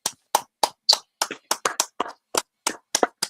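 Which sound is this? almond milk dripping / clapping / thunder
clapping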